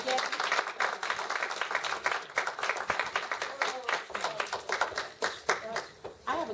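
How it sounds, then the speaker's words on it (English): Enthusiastic applause from a crowd, dense clapping that rises and then tapers off, with voices mixed in. "give her another huge round of applause"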